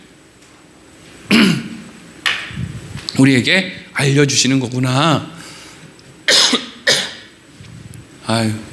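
A man coughs and clears his throat several times in short bursts during a Korean church sermon, with brief speech in between.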